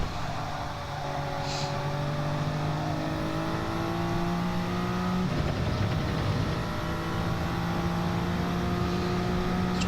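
A race car engine drones steadily at high revs in close battle with an Alfa Romeo, a loud in-car tone that shifts through gear changes with rising and falling pitch sweeps.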